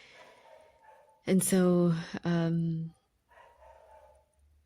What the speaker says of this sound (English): the neighbor's dog is quite loud right now